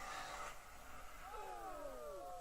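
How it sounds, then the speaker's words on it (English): A car engine revving during an attempted burnout, rising and falling whines as the revs climb and drop, heard faintly at a distance. "And he's trying to do a burnout, I think."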